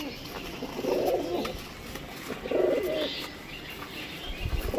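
Rampuri, Najra Kaldum and Kashmadhuma pigeons coo in two soft, rounded bursts against a steady low background, with faint chirps in between and no voices.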